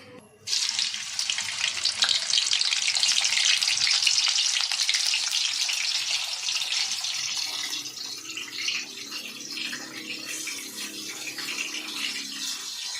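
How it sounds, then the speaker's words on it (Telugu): Salted fish frying in a few spoons of oil in a pan, a loud, bright sizzle that bursts in suddenly and then settles into a steady, slightly softer crackle. "ఉప్పు చేప వేయించుకోవాలి"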